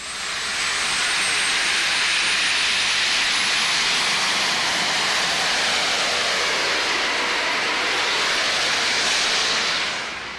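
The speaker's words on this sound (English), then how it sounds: "That's the sound of two T-53 Lycoming helicopter engines." Two Lycoming T-53 helicopter turbine engines powering a pulling tractor roar with a loud, continuous jet-like whine and rush, rising in at the start and holding a steady, broadband blast until fading slightly at the end.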